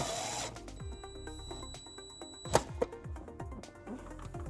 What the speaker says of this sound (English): we're going to ground it behind our taillight using the provided self-tapping screw